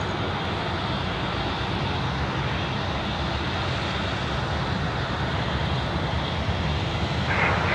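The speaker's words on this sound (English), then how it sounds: "Dash 8 just coming in on one prop" A Dash 8 turboprop airliner arriving on a single propeller at Sydney airport, giving a steady, loud broadband engine roar that holds evenly throughout with no break.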